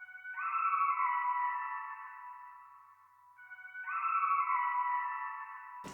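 Arcade's Distant Voices preset sample in FL Studio, used in a beat: an airy, sustained synthetic vocal pad that swells in two long phrases, dipping briefly between them, with a sharp click at the very end.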